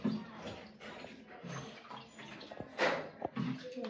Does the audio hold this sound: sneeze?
no